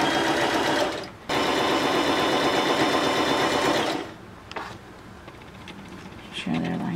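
A sewing machine runs steadily while stitching quilt fabric for a nine patch block, with a brief pause near one second, then stops around four seconds, leaving quiet handling noises and a faint voice.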